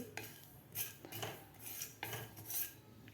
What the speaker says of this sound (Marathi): बारीक गॅसवर आपल्याला हे 2 मिनिट आपल्याला खसखस भाजून घ्यायची आहे